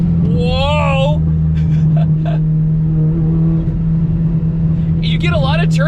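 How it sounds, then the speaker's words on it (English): A Chevy Cobalt SS turbocharged economy car accelerating hard, with a rising engine drone and turbo whine climbing in pitch in two strong pulls, heard from inside the cabin over a steady low hum. "You get a lot of turbo noise too."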